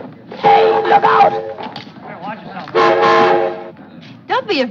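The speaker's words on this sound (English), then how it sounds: "I'm only the train whistle." A cartoon train whistle from Disney's Dumbo sounds in two loud, bright, multi-tone blasts, each lasting about a second, separated by a gap with other character voices heard around them.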